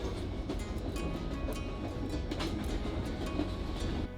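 Steady rumble of a train on the historic White Pass Railway through Alaskan mountains, rolling along the rails with faint rhythmic clacks over a constant low drone, no voices.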